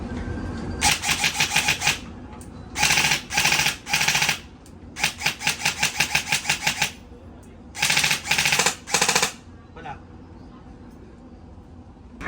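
An electric BB gun fires in a shop, with repeated short bursts of rapid, rattling full-auto shots separated by brief pauses, loud and close.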